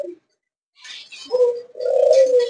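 Pigeons coo in a farm loft, a couple of close, loud throaty calls with a soft higher chirp between them and brief silences.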